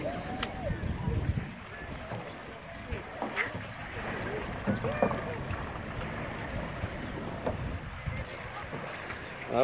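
Rowboats move on the open ocean off Hawaii, with water sloshing and lapping around the hulls under a steady breeze, the splashes rising and falling unevenly.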